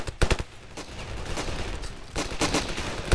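Gunfire in the Ravenfield combat game: several sharp shot bursts crack near the start and again toward the end, with a busy layer of distant battle noise between them. No one speaks.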